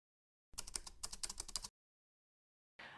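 Rapid, close keyboard typing in a burst of about a second, then silence, with a few more keystrokes starting at the very end.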